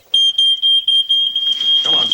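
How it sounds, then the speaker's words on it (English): A household smoke alarm shrills in a rapid series of loud, piercing pulsed beeps close by, with a rustle of movement near the end. "what do you do when there is an alarm?"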